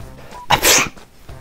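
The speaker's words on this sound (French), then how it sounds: "Et si elle éternue encore une fois" A single sharp, loud human sneeze bursts out abruptly, with near silence around it.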